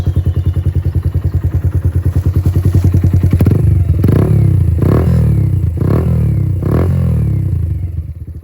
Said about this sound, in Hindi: काफ़ी अच्छी क्वालिटी में एग्जॉस्ट का साउंड भी मैं आपको चेक करवाता हूँ अभी